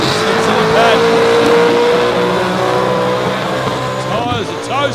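A supercharged car drives hard at a street skid event, its supercharger whine rising as a steady high tone over loud engine roar, with squealing tyres and crowd noise mixed in throughout.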